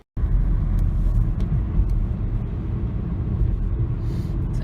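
A car driving on the road gives off a steady, loud, close rumble of engine and road noise that holds evenly throughout, with no voices.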